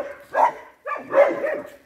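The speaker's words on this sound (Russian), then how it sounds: "ты чё лаешь?" Two deep, close dog barks ring out in a quiet indoor or yard setting, the second longer and rougher than the first, with no voices over them.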